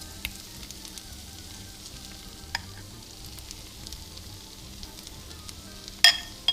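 Ricotta and ground beef chaffle batter cooks in closed waffle irons with a soft, faint, steady sizzle, broken by a few light clicks and a brief clatter near the end.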